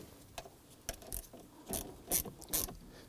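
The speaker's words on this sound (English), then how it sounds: "Go ahead and grab that ratchet," A ratchet snugs down a battery terminal nut on a Volvo XC90 in short bursts of crisp, close pawl clicking separated by brief pauses.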